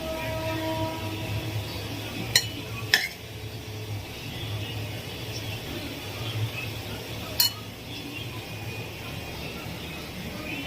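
Egg rice being plated, with a few sharp, isolated clinks of dishes and cutlery spread over about ten seconds above a steady low kitchen hum.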